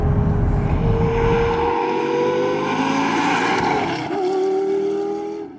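A manual Lamborghini Gallardo supercar's engine is heard at sustained high revs, loud and droning, its pitch sweeping steadily upward before a short dip and recovery, close and without talk.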